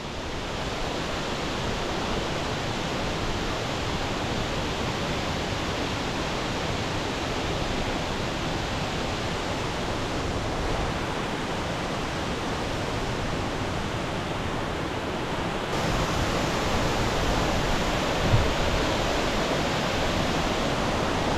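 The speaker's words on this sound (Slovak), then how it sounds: "Jak tá voda frká." Water splashes and roars continuously at Sekumpul waterfall on Bali, the island's tallest, as a loud, unbroken wash of falling spray heard close by, with no voices over it.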